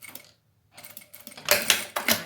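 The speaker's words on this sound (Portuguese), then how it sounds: "vou fazer uma costurinha aqui do meio para as extremidades" Sewing machine stitching a zipper onto a rounded fabric cosmetic pouch, running in short clattery bursts with a pause, then louder quick rattling runs of needle strokes close by, with no talk.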